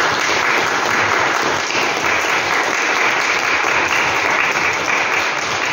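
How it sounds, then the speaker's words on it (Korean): Congregation applause of encouragement at a Sunday church service, a steady, dense clapping that runs evenly for several seconds without speech. "격려의 박수를 한번 하겠습니다."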